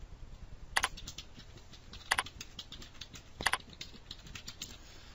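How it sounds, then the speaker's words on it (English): Computer keyboard being typed on quietly while entering a maintenance request, a few soft scattered keystrokes with three sharper clicks at regular intervals, near and faint. "I just typed a V."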